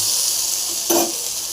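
Brinjal roasting on a hot tawa gives off a steady sizzle with a brief louder flare partway through, close and continuous with no talking.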